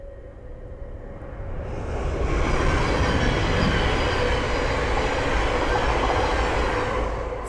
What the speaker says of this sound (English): the next train to pass by is a Thameslink 700 from Raynham to Luton